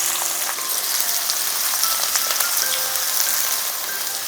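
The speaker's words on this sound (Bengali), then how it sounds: "ঠিক সেই সময় দিয়ে দিচ্ছি কুচি করে রাখা পেঁয়াজ।" Chopped onions go into hot oil with reddened cumin seeds and fry in a loud, dense, continuous sizzle that crackles like rain for the whole stretch, with no voices.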